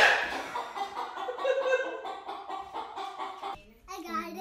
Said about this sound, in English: And there's a chicken just chilling on the hood of my car.